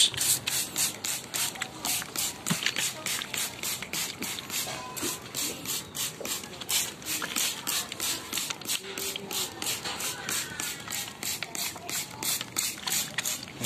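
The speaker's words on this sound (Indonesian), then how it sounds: "Ini cara penyemprotannya, kita disemprot semua." A hand pump sprayer repeatedly mists fermented herbal fertilizer onto plant leaves, giving steady rhythmic hissing pulses with mechanical clicks of the pump, close and moderately loud, with no talking.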